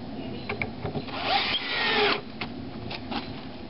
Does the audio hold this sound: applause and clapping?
no